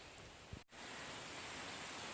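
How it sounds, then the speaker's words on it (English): Steady rain hisses evenly across the whole stretch. There is a brief soft bump and a momentary dip near the start, then a constant wash of falling water. "It's raining."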